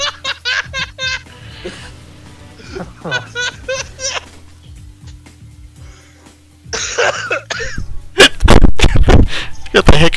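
A man in a GoldenEye: Source game session bursts into fits of laughing and coughing, wheezy gasping laughter with sharp coughs and hiccup-like catches, loud and close, alternating with talk.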